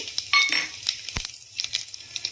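Mustard seeds, cumin and garlic hit hot oil for a sambar tempering, giving short crackling sizzles and clinks that come and go, close and fairly quiet.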